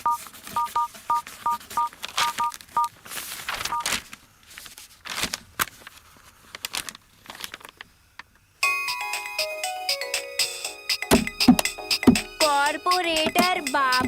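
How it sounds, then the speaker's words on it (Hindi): A quick series of telephone keypad tones beeps out a number, followed by clicks and then a melodic ringtone playing. "उस पेंटर रामन्ना को एक फोन कर दे।"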